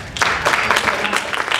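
Brief burst of audience applause at a hypnosis show during a convention, fairly loud and mixed with murmurs from the crowd.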